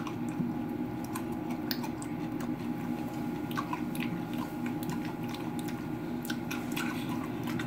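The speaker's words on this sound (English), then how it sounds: "I can crunch and munch on these all day" Wet, crunchy chewing of raw spiralized beets, close to the mic, with a steady run of small crisp bites and squishy mouth sounds over a low background hum.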